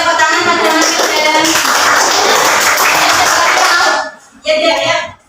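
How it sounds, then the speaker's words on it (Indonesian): Pupils in an elementary school classroom clap for a classmate, a dense, loud burst of many hands that stops abruptly, followed by a brief second flurry of clapping. "Ini tepuk tangan pada Mas Pilda."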